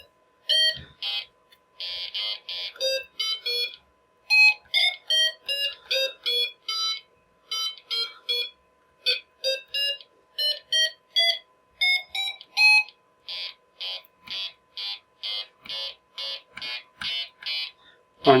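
Electronic beeps and warbling buzzer tones from a Snap Circuits sound kit, pitch shifted with a variable resistor, repeated in short bursts of alarm-like chirps, clear and close against a quiet background.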